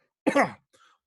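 A person acting out a character at a tabletop Dungeons and Dragons session imitates a cough. It comes as one short, throaty burst, followed by a faint, breathy tail.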